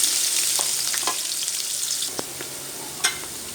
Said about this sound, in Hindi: उसमें हम डालेंगे ये 15 अदद लहसुन के जवे, बिल्कुल बारीक चॉप, ये डाल दिए हमने।